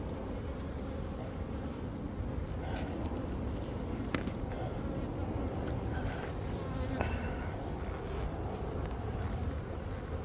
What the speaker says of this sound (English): So I think they're getting ready to swarm.